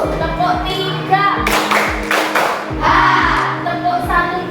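A school class plays a counting clap game, with rhythmic group hand claps in short sets that follow a teacher's spoken cues.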